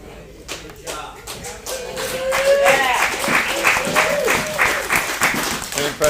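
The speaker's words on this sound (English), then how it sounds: "You notice that? They didn't clap for you." Audience applause in a class or meeting room: clapping swells and continues at a steady, fairly close level throughout, with some shuffling and a few voices mixed in.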